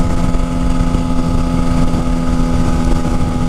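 A 2012 motorcycle engine droning steadily while riding, a loud continuous hum with wind rush over the microphone throughout.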